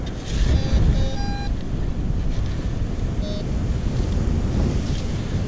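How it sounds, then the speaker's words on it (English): Wind blows on St. Augustine Beach and buffets the microphone in a steady, loud roar for several seconds, with a few faint high electronic beeps over it early on. "A little windy out"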